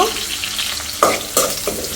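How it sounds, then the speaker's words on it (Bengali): Chopped onions and green chillies sizzle in a pan, a loud close frying hiss broken by a few sharp scraping stirs of the spatula. "আর এইখানে আমি পেঁয়াজ কাঁচামরিচ মিললাম মানে ভাজা ভাজা হওয়ার জন্য"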